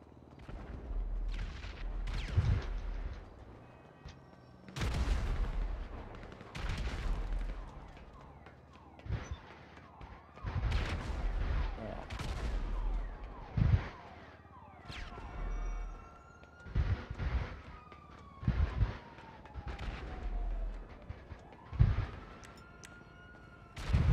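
Gunfire and explosions in the video game GTA 5 during a multiplayer fight, with repeated sharp loud bursts and booms scattered across the clip and a wailing siren sweeping in the background.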